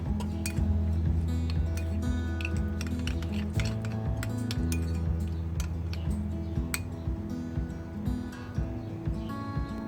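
Chillies, cardamom powder and salt are mixed in a dish for white chicken biryani, a spoon clinking and tapping against the bowl in a quick, uneven rhythm over a faint steady background tone.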